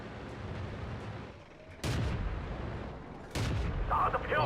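Two heavy cannon shots from a 59-16 light tank in World of Tanks, each a sudden loud boom followed by a rumbling tail, spaced a couple of seconds apart over steady engine and battle noise.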